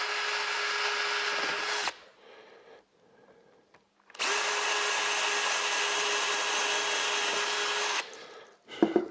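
Power drill driving screws through an MDF board to secure a drawing before resawing, two loud sustained whirring bursts separated by a quiet gap with small handling clicks, ending in a brief knock.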